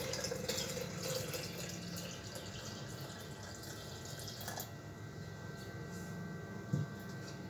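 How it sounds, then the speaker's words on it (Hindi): Chilled water pours into a jug for a mango shake, a faint, steady trickling stream with a small clink near the end, no voices. "अब इसके अंदर मैं मज़ीद पानी ऐड करूँगा।"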